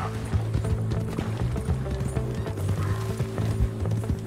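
A horse in the Red Dead video game gallops with quick, rhythmic hoof clip-clops and a faint whinny, moderately loud, over a low game background and no speech.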